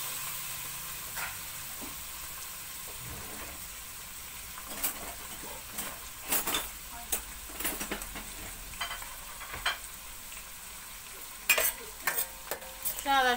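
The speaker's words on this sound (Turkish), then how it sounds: "Şuna da şöyle soğanı koydum. Bu da burada kavrulsun." Onion sautéing in oil in a pan makes a moderate, continuous sizzle, with scattered clicks and clatters of stirring rising over the hiss now and then.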